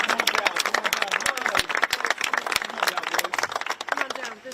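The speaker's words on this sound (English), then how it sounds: "One more round of applause for the Reverend" A crowd gathered on the Capitol steps applauds Reverend Barber, with dense, steady clapping and cheering lasting several seconds while voices mingle underneath.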